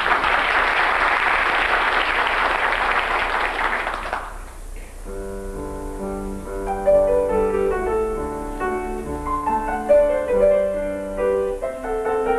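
Loud audience applause at a choir's 16th-anniversary and Mother's Day concert, steady for about four seconds before it fades and music starts.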